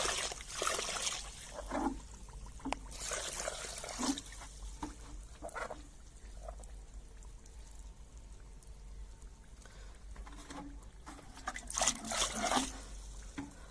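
Water is poured onto quicklime during traditional lime-making, producing intermittent splashes and hissing, fizzing bursts as the lime starts to boil and bubble, close up, with quieter crackling between pours.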